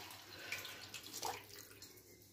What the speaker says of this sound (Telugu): వాటర్ వేసుకుంటున్నామండి